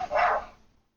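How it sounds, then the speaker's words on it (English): A single dog bark, short and muffled, in the background, then quiet, picked up by a Razer Man O'War headset microphone. "now I'm going to be testing for dogs in the background"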